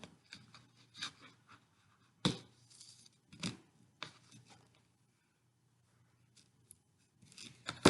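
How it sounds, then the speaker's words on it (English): Knife or cutter trimming the crust and edges off bread slices, a few sharp crisp cutting crunches spaced apart with quiet gaps between, close up. "you're going to take the crust and edges off, like so."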